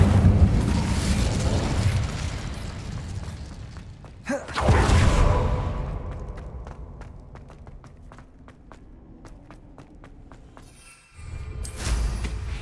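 Incendio fire spell cast in Hogwarts Legacy, a loud whooshing burst of flame followed by crackling and scattered clicks as the fire dies down, then another burst near the end.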